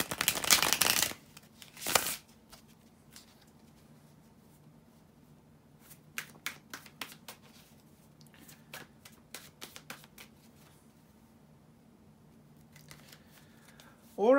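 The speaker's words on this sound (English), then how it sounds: "bear with me just a couple of seconds, guys, to shuffle the cards" Tarot cards being shuffled in a quiet room, with a couple of loud riffles at the start followed by softer, scattered flicks and slides of the deck, faint and close.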